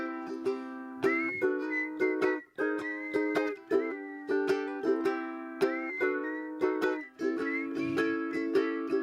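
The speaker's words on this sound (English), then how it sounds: "You guys want to whistle?" An audience at a live Thursday night show whistles along to a song, a steady, sustained multi-voiced melodic whistle that rises and falls with the tune, with no talking.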